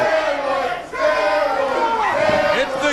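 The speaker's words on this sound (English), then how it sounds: "The crowd chanting at the Spellbinder, steroids, steroids." Wrestling arena crowd chanting in unison at the wrestler Spellbinder during a match, a dense rhythmic mass of voices that swells and pulses steadily throughout, close and loud.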